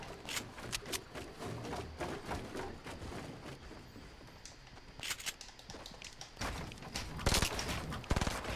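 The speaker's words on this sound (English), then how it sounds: "Bro, stop shooting at my stuff." Rapid, sustained video game gunfire fills the scene, with dense bursts of automatic shots and overlapping cracks running nearly continuously, loud and close, swelling in intensity toward the end.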